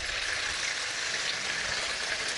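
Meat rolls with bell pepper sizzle steadily in a hot pan over a gas flame, a bright, even crackling hiss that carries on without a break, with no voices.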